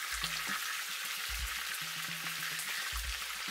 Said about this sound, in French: je fais revenir rapidement le poulet dans de l'huile très chaude, chauffée à feu fort